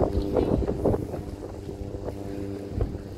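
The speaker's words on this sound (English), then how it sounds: "Literally out here boating, my guy." A boat motors across the water, its engine droning under gusts of wind buffeting the microphone.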